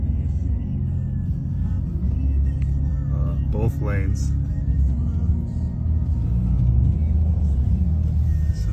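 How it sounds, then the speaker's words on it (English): Heavy trucks lined up in a convoy on a highway near the Canadian border idle with a steady low rumble throughout, while a person talks briefly over the engine drone. "So all the truckers are lined up all the way down the highway."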